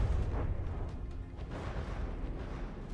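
Missiles and torpedoes firing in a From the Depths naval battle on a battleship, heard as a low, rumbling boom and continuous muffled blasts with a dense bass roar throughout the short stretch.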